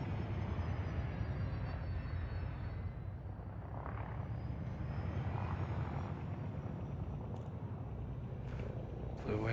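A video game aircraft with flight assist switched on flies along, producing a steady, droning engine roar that holds evenly throughout with slight swells.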